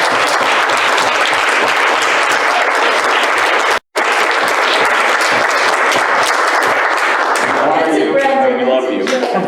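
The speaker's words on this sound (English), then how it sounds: "If we could all just maybe give Jesus a round of applause." Sustained audience applause at a community tribute event, loud and dense with many hands clapping continuously, a brief cut in the middle, and scattered voices and cheers mixed in as it thins toward the end.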